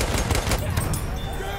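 Light machine gun fire in the Battlefield 1 video game, a dense loud burst of rapid shots over a noisy battlefield mix, with a voice talking underneath.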